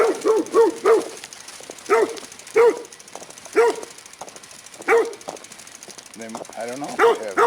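A dog barks sharply and close, about a dozen barks in irregular bursts and doubles, with quieter gaps between them.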